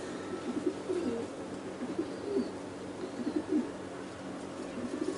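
Pigeons in a loft coo softly in repeated low, rolling phrases close by, several short bursts over a quiet background hum.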